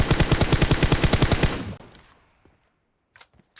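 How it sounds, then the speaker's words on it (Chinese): Automatic M416 rifle fire in PUBG: a fast, loud burst of about fifteen evenly spaced shots over a second and a half, then a fading echo and a few faint distant pops. "我打开单发模式，将 M46当作狙击，向其展开精准射击"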